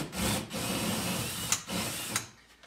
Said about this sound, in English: let me get these two holes drilled really quick